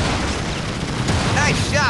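Gunshots ring out in Bandits: Phoenix Rising during a truck robbery, a dense, loud burst of gunfire over roaring vehicle noise, with a voice talking over it.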